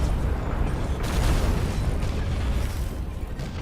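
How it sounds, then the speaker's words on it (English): Mech cannons fire in the VR combat game Vox Machinae, a continuous heavy, booming roar of impacts and rumble with a sharper blast near the one-second mark, and no speech. "Just hard hitting cannons."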